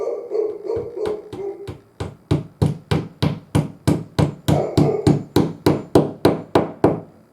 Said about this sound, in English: Then we're just going to lightly tap these in.